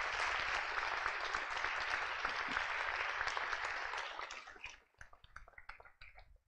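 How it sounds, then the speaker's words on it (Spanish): Loud, dense applause from a conference audience welcoming a speaker, steady for several seconds before thinning out into scattered final claps. "La recibimos con un fuerte aplauso"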